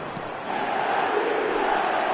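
A stadium crowd in the eFootball 2026 football game roars in a dense, loud wash of cheering that swells slightly partway through.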